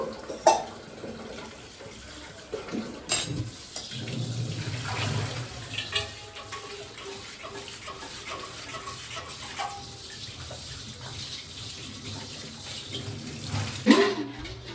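Water runs from a tap and splashes steadily over copper vessels, a pot and glass, being scrubbed, with a few sharp clinks and knocks along the way.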